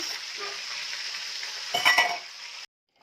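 Food sizzles and fries steadily in a pan on a home kitchen stove, a continuous crackle that briefly swells louder with stirring near the end, then cuts off abruptly.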